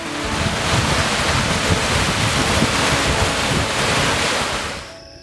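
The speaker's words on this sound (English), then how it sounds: "got a big storm blowing in. Look at the waves, it's kicking up" Strong wind and choppy waves from an approaching storm on open water in the Atchafalaya, a loud continuous rushing wash with wind buffeting the microphone, fading out abruptly at the end.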